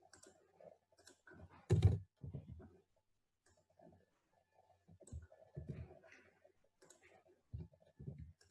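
Soft clicks from a computer keyboard while a tax payment number is entered, sparse, quiet taps in short clusters with gaps between, heard close but faint.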